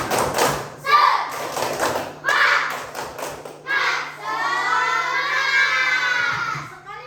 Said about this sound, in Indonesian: Ayo mulai. Tepuk semangat.